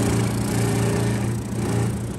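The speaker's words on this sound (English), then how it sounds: "That's the air, it sucks all the dust." Dust extraction suction runs steadily in a workshop building custom lineman climbing boots during sanding, a loud continuous mechanical hum with no break, close to the microphone and without talk.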